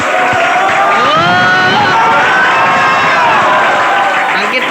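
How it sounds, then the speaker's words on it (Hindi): A crowd cheers and shouts loudly at a farewell class in a coaching centre, continuous overlapping voices filling the room throughout, with possible clapping mixed into the din. "तालियां प्लीज।"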